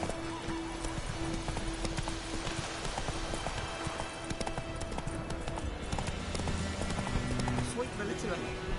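Roach, Geralt's horse in The Witcher 3, running hard with steady clip-clop hoofbeats, an occasional whinny and ambient game music, while a voice talks over it throughout.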